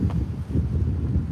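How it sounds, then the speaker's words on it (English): Gusty wind buffets the microphone in low, rumbling bursts, loud and close, with no other clear sounds. "you guys are probably tired of listening to the wind"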